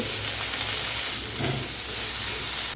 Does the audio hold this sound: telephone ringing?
no